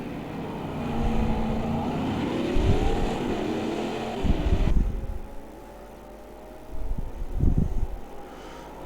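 GT4 race cars in the sim racing game Automobilista 2 drone steadily with shifting engine pitch, swelling as cars pass close by and fading again, a continuous racing roar through the whole stretch.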